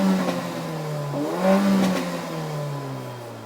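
The engine of a 355bhp Mercedes A45 AMG hatchback revs up and down in a smooth rising and falling roar, close and steady, with pitch sweeping through the gears.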